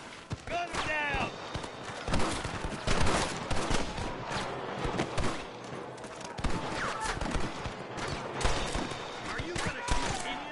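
Rapid gunfire crackles through a Red Dead Redemption shootout with rustlers, dense overlapping shots and volleys running continuously under shouted talk, with hoofbeats mixed in.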